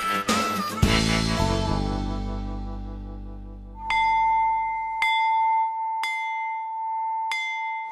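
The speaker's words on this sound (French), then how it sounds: "Le son de la cloche dans le monde entier signifie récréation" A school bell signalling recess rings with a long ringing decay, followed by four evenly spaced, clear bell strikes, each sustaining a bright tone.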